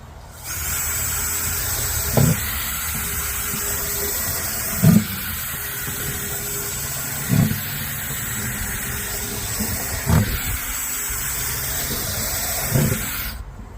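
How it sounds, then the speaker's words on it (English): Electric drill with a quarter-inch bit boring drainage holes in the bottom of a tomato pot: a continuous whirring hum with five brief bursts as the bit breaks through, spaced a few seconds apart, no talking. "I usually put anywhere between 5 and 10 holes in here depending on how big my drill bit is"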